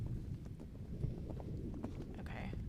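Horse hooves run in a steady, rapid clatter as part of tabletop role-playing game ambience, set over a dense low rumble, with voices murmuring underneath.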